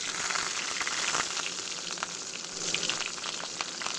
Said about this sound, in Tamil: எண்ணெய் காஞ்சிருச்சு இப்போ அது கூட ஒரே ஒரு பச்சை மிளகா ஒரே ஒரு வெங்காயம்